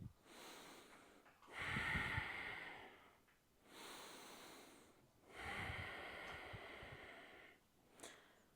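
Slow, deep breaths during a shoulder exercise routine, with two long airy inhale-exhale swells around two and six seconds, close and breathy, with quieter gaps between and no talking.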